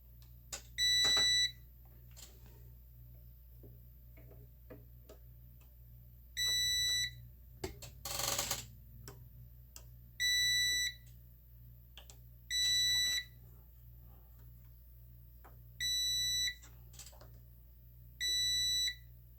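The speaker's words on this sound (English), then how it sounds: "So I'll check those for continuity." A continuity tester beeps on the bulb sockets of a Dodge Power Wagon gauge cluster during a ground repair, sounding seven separate short electronic tones, each about a second long, at irregular spacing over a steady low hum.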